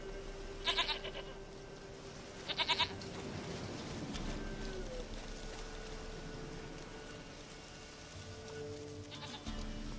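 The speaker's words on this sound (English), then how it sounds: "Goat of mine, dearest," A goat bleats in The Witcher 3 video game, two short clear bleats early and another near the end, over a soft ambient wash with a faint rain-like hiss.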